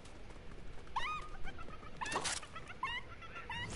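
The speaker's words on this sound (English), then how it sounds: "there's chickens" Chicken clucks in a video game match, a few short bird calls coming in separate bursts over steady background game ambience.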